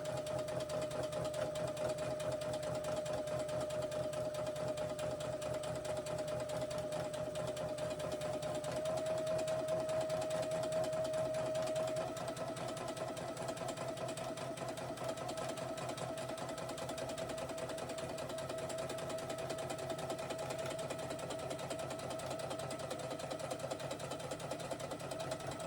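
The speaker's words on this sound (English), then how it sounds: "I'm just going to top stitch again a centimetre along the top" Sewing machine top stitching along the edge of a cushion cover with navy thread, a long, steady, fairly quiet mechanical whirr running without a break.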